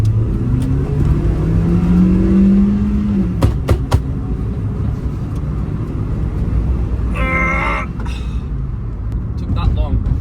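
A 2002 Toyota Echo driving and cornering, its engine droning steadily up close with rising whine and road noise, a few sharp clicks and rattles cutting through.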